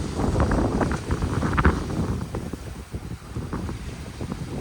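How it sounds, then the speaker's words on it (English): Wind buffets a sailboat running downwind off the south coast of Tasmania, with steady water wash along the hull and gusty microphone rumble, continuous and fairly loud throughout with no voices. "So nice to be sailing peacefully with a nice downwind sail."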